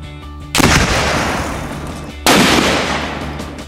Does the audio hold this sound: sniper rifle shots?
yes